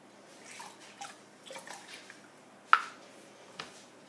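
Liquid labelled as industrial runoff is poured into a small water pollution model, making faint drips and soft splashes with one sharper splash midway, in a quiet room.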